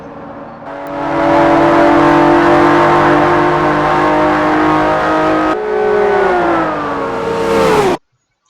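Porsche 911 GT3, TVR and Corvette supercars racing in Forza Motorsport 4, a loud sustained engine roar that climbs and holds high revs, then shifts and surges once more before cutting off abruptly.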